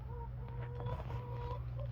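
Several chickens cluck softly close by while eating fresh peaches, short murmuring calls over a low steady hum, with no talking.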